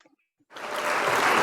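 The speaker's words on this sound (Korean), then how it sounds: "보실 때 큰 박수 부탁드립니다" A seated crowd at a member event clapping as a speaker comes up to share her testimonial. After a short quiet pause the applause swells quickly and holds loud and dense to the end.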